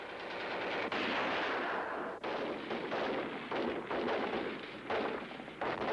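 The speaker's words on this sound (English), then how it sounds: "Suddenly, gunfire from nearby buildings revealed the presence of French collaborators attempting to assassinate de Gaulle." Sustained rapid gunfire, machine-gun bursts and scattered shots, from buildings near a crowded Paris street, loud and continuous throughout with brief gaps between volleys.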